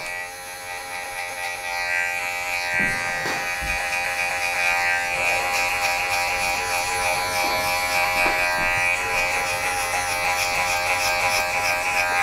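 Electric hair clippers buzz steadily and close up through a short buzz-cut trim, a continuous motor hum with a few soft taps and shifts as the blade moves through the hair.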